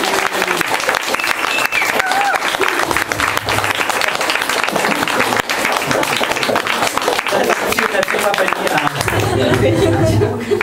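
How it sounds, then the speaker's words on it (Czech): Spontaneous audience applause at the end of a Czech talk on learning English, sustained clapping lasting about ten seconds with some chatter and light laughter underneath. "A teď je ta šance pro vás, kdy vy můžete zatleskat spontánně a já budu mít radost."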